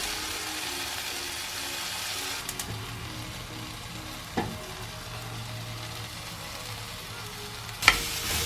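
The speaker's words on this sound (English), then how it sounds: "After adding Japanese Cajun sauce, cook about 1 minute." Edamame sizzles steadily in a pan over low heat with Japanese Cajun sauce, a soft continuous frying hiss broken by a couple of brief clinks of stirring.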